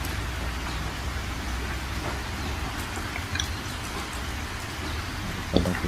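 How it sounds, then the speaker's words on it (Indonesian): Steady rain falls on a campsite in a sudden downpour after clear weather, a dense even hiss throughout with a faint low rumble and one brief knock near the end. "Masih menunggu hujan ini guys."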